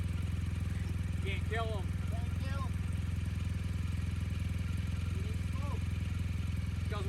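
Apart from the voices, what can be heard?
motorcycle engine running after being cranked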